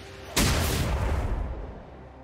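A turret explodes in League of Legends with a single sudden deep boom that rumbles and slowly fades over about two seconds.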